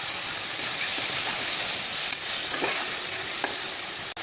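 Chopped tomato sizzles in a pan with cumin, ginger, coriander and dried and green chillies, a steady hissing fry broken by scattered stirring clicks and scrapes, close and without talk.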